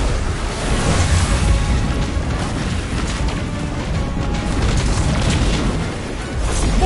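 Missile explosions in Destiny as Red Legion forces attack, a dense continuous roar of loud rumbling blasts and debris with no pauses, layered over heavy low-end rumble.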